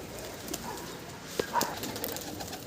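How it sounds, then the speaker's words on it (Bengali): A Kaldom pigeon gives a soft, low coo amid faint background noise, brief and close. "একটা হাই লেভেলের কালদম পায়রা"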